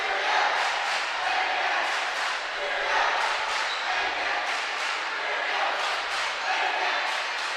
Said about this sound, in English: That just makes the Refugio crowd come alive right there.